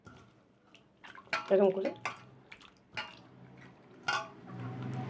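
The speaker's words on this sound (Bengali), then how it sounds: "দিয়ে এই আমটাকে হাত দিয়ে ভালো করে আগে চটকে নেব" Green mango being mashed by hand with black salt and cold water, giving soft wet squelches and splashes in irregular bursts while someone speaks.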